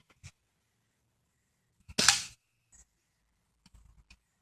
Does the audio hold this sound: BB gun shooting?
yes